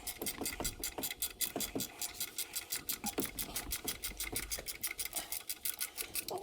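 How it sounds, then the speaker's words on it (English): A ratchet wrench tightens the turbo mount bolts on a 6.0 diesel engine, giving a steady run of rapid, even clicks close by with short pauses between strokes. "So now we're going to tighten up the turbo mount bolts."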